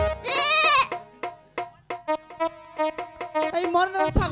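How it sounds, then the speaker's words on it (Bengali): A goat bleats in a long, wavering cry at the start, followed by a run of shorter bleat-like calls. It sounds fairly close, in a rural Bangladeshi folk performance setting, and no clear speech is heard alongside it. "এই মরনার ছাগলটা সারাদিনই ঝগড়া।"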